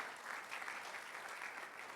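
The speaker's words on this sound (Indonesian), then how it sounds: "Mari yang bersyukur beri tepuk tangan yang lebih lagi saudara." A church congregation at a Christmas service claps steadily, a dense wash of applause that holds at an even level throughout with no voice on top.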